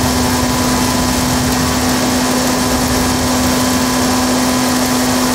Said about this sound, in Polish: Ten samochód taki nie za szybki